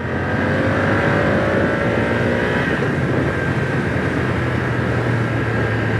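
A 2025 BMW F900R motorcycle engine revs up and accelerates under throttle on a bumpy road, with a steady, loud drone and rising engine tones, plus constant wind rush throughout, with no talking.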